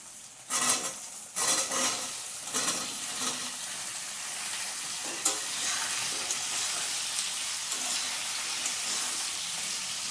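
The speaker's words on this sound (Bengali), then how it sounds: "আমার পেঁয়াজ টমেটোটা ভাজা ভাজা হয়ে গেছে, এবারে আলু দিয়ে দেবো" Onion and tomato with added potato fry in a pan for a prawn curry: a steady, close hiss of oil with a few louder bursts and stirring scrapes early on, then an even sizzle.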